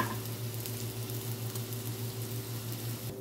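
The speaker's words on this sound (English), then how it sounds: "Saute our onions." Onions and celery sauté in a pan on the stove, giving off a steady, close sizzle with a faint low hum underneath and no talking.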